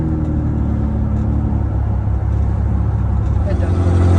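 A 1988 Ford Bronco II with a new exhaust drives along a road, a loud, steady low engine and exhaust rumble filling the cab without a break.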